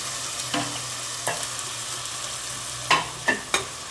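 Ground onion paste with green chili frying in oil for a paneer biryani, a steady close sizzle broken by several sharp spatula scrapes and taps toward the end.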